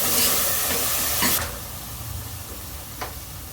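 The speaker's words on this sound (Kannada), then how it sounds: "ಈಗ ತೊಗರಿ ಬೇಳೆನ ಹಾಕೋತೀನಿ. ಚೆನ್ನಾಗಿ ಫ್ರೈ ಮಾಡ್ಕೊಳ್ಳೋಣ." Toor dal fries in a pan, a close hissing sizzle with a few scraping stirs, loud at first and then settling into a softer steady fry.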